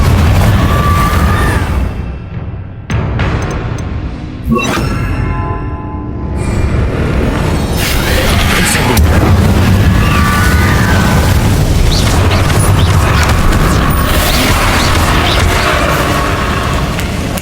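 Confringo blast spell from Hogwarts Legacy erupts in a loud booming explosion over dense, continuous game combat noise, followed by sustained roaring crackle for the rest of the stretch.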